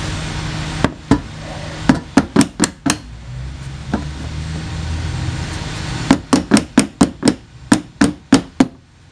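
A hammer and chisel tap the fuel pump lock ring on a 1999 Saturn SL2. Sharp metallic strikes land close by, first in a quick burst of about six, then a pause, then a longer steady run of roughly nine.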